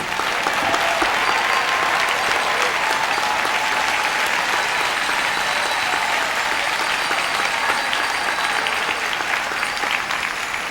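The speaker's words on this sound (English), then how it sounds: "Let's give them another round of applause." Loud, continuous applause from a large audience at a Teacher of the Year awards gala, dense even clapping that holds steady for over ten seconds without talk.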